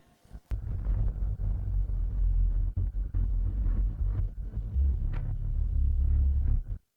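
A deep thunder rumble follows a lightning strike, a loud, sustained low roar lasting several seconds with brief dips before it cuts off, and no one speaking.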